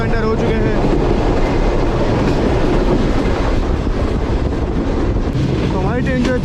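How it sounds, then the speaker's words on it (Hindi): The Fareed Express train rolls toward Bahawalpur railway station with a continuous loud rumble and clatter of wheels on track and some wind noise, heard from on board, close and steady. "तो हमारी ट्रेन जो है अप्रोच कर रही है भावलपुर रेलवे स्टेशन पर।"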